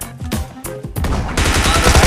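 Gunfire in the video game PUBG, a few spaced shots followed by a rapid burst of automatic fire, loud and close, with no talking.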